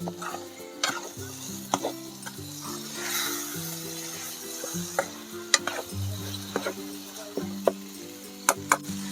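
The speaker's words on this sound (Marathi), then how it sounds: "तर हे असंच चार पाच मिनटं तरी फिरवत राहायचं" Malvani chicken masala frying in a pan over a wood-fired stove, stirred steadily with repeated scraping and clinking strokes over a soft sizzle, close and fairly quiet.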